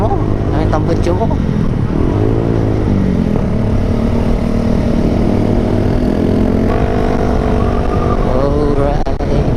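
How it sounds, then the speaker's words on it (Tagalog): A Suzuki Gixxer 150 motorcycle exhaust drones and revs loudly, its pitch rising and falling through gear changes on a tunnel ride, with voices faintly mixed in. "Ingay ang motor mo. Ang tambutso mo."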